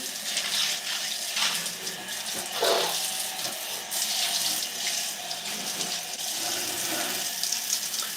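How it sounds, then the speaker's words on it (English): Running shower water pours steadily while hair is rinsed during a curly-hair wash and go, a continuous close splashing hiss with small shifts in flow and no talking. "So now we're going to rinse after I finish cleaning up my crime scene."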